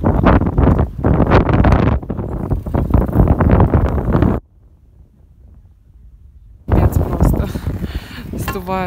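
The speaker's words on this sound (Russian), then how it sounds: "Если встанешь и раскинешь руки, то ветер практически полностью затормозит тело." Strong gusting wind buffets the microphone in loud roaring bursts that stop for a couple of seconds in a near-silent gap, then return just as hard; a voice speaks over the blustering.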